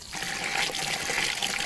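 Plain cold water is poured into gram flour batter for vada pav, a brief steady trickling splash that runs under two seconds and cuts off abruptly.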